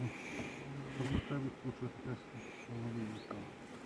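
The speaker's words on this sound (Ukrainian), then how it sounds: "Так, стреслі бджоли." Honey bees buzzing around opened hives at an apiary, a low droning hum that swells and dips close by, with people talking quietly over it.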